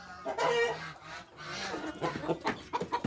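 A rooster trapped inside a shed on a farm during rain gives a few short, harsh honking clucks and squawks in quick bursts, fairly close and fairly quiet.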